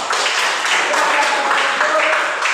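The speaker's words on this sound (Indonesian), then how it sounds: "terima kasih tepuk tangan untuk kita semua" Group applause from a classroom of teachers in training, steady dense clapping throughout with faint voices mixed in.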